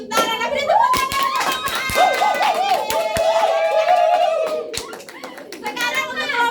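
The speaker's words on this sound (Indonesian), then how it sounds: "anak beri tepuk tangan." Children in a classroom during a micro-teaching practice lesson give a round of scattered hand claps, sharp and close, mixed with overlapping young voices talking and calling out throughout.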